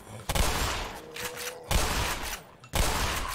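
Loud shotgun blasts from the Black Mesa video game, three heavy booming shots spaced about a second apart, each with a long noisy tail and no talk over them.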